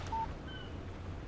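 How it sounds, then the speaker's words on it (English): Phone text message alert from the Alan Wake Remastered video game: a short, clear electronic tone followed by a second fainter two-note chime, over a low steady background hum with no talk. "Text message from Barry."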